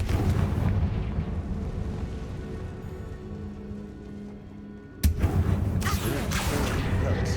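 A Confringo blasting-spell explosion in Hogwarts Legacy erupts suddenly as one sharp, loud burst after a stretch of low rumbling ambience. A crackling, debris-like wash follows the blast.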